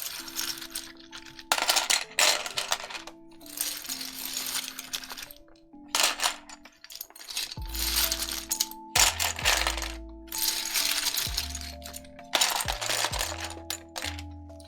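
GMK keyboard keycaps in classic beige clattering as they are handled, heard as close bursts of light plastic rattles and clicks in irregular clusters separated by short pauses.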